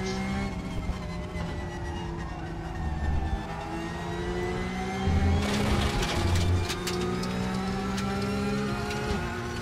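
A Porsche in a racing video game drives along with a smooth, rising engine whine that shifts pitch as it accelerates, moderately quiet, with a brief burst of rougher clatter partway through and no talk.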